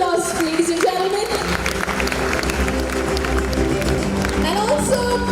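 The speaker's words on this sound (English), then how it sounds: "Shall we have a very big round of applause, ladies and gentlemen?" An awards ceremony audience applauds, a broad, continuous spread of clapping in a large hall, while music plays and an announcer keeps talking over it.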